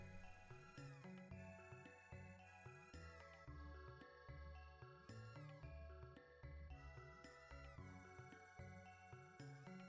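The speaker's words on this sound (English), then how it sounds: "Notice how the cat is following Magnus around." Repeated cat meows in the Chrono Trigger video game, with the cat trailing the character Magus, sounding over a continuous layered game music track with bells and chimes, steady and fairly loud throughout.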